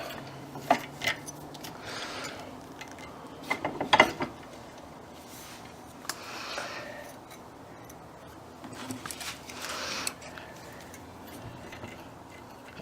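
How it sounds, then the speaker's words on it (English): Metallic ratcheting clicks and grinding of a bench vise being cranked shut on a battery, several short bursts of turning with pauses between, close and moderately loud. "Let's put it in the vise."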